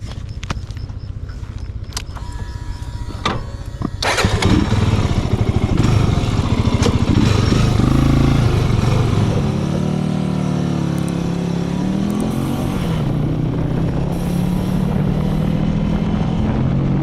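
A Janus Halcyon 450 motorcycle rides twisty roads on a California morning, its engine droning loud and steady close by, with rising and falling pitch as it shifts and accelerates through bends.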